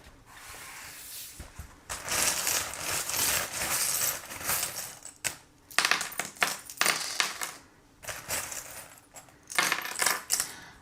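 Small divination charms clatter and jingle as they are shaken and cast, a run of loud, dense metallic rattling bursts separated by short pauses, close up with no talking.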